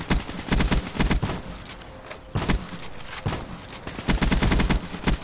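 Rapid automatic gunfire in Minecraft, with loud, close bursts of fast shots separated by short pauses, mostly on its own with little talk.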